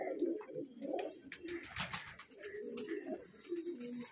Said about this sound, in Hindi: ये देखिए लाहौरी मकोई कबूतरियाँ हैं